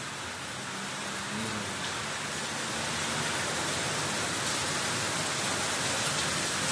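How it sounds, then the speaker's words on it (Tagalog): Heavy rain pouring steadily outdoors, a dense, continuous hiss that holds loud and even throughout with no voices. "Yan, medyo malakas-lakas na yung ulan."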